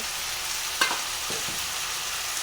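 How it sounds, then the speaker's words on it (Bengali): Spices with kasuri methi sizzle in a hot pan while being stirred, a continuous close crackling hiss with a couple of brief scraping knocks. "একটু কস্তুরি মেথি দিয়ে ভালো করে কষিয়ে নেব।"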